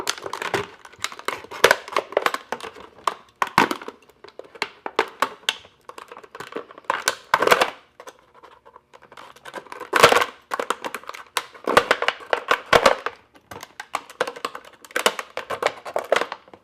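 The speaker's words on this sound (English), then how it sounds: "So here I'm gonna show you how to cut a spoon out of a plastic bottle" A plastic bottle is cut into the shape of a spoon, producing dense, irregular crinkling, crackling and snipping sounds up close that come in bursts with short pauses between them.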